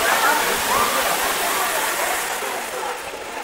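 Talakona waterfall near Tirupati pours in a steady, loud broadband rush of falling water, close by and continuous, easing slightly toward the end.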